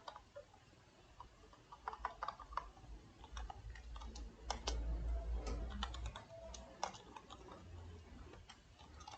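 Keys clatter on a computer keyboard in quick, irregular bursts of light clicks, close and quiet, with a soft low background hum and no talking.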